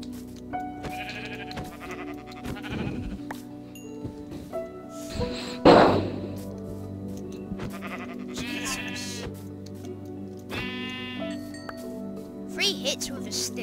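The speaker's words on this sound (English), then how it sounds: "No, there's some sheep here." Blocky sheep in the video game Minecraft bleat several times at intervals over a steady game background, with people talking around the calls.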